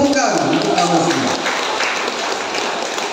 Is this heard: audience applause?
yes